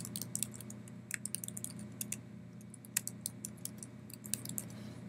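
Quiet, quick keystrokes tap on a computer keyboard in irregular bursts during setup of a Tintri VMstore array, over a low steady hum.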